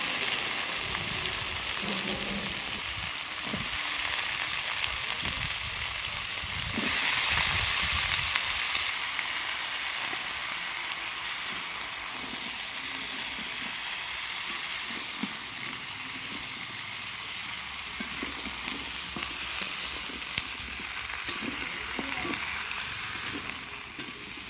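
Pumpkin, potato and stem vegetables frying with onion in a pan, a steady sizzle with a louder burst and stirring around the seventh second, continuing without talk.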